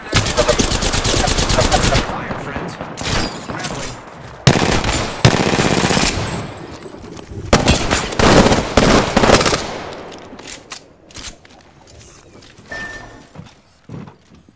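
Loud automatic gunfire in the battle royale game Apex Legends, with several long bursts of rapid shots separated by brief gaps, fading to scattered distant shots and quieter game ambience toward the end.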